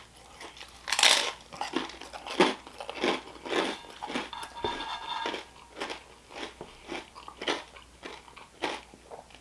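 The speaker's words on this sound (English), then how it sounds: "I love this like the crust and the thin crust because it's so like crunchy" Close, crisp crunching bites and chewing of thin-crust taco pizza, repeated in an irregular rhythm with brief pauses between mouthfuls, with no talking.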